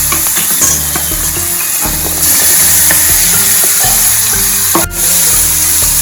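Onions hit hot oil with mustard seeds, cumin, turmeric and asafoetida for a Kathiyawadi green onion curry. A loud, close sizzle is joined by scraping, clattering stirring, with a brief dip near the end.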